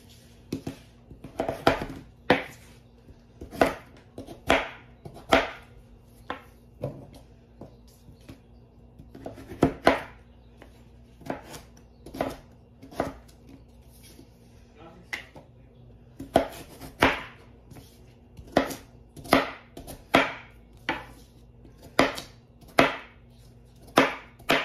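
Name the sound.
knife dicing sweet potatoes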